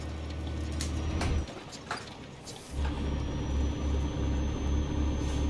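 Truck engine brake on a flatbed day cab in American Truck Simulator on a switchback road, a steady low rumbling drone under engine noise after a brief lull, held below 2,000 RPM.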